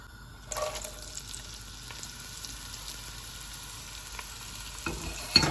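Vegetable oil going into a pan for stir-frying, a faint steady sizzle that starts abruptly, with a few soft clinks and a louder scrape near the end.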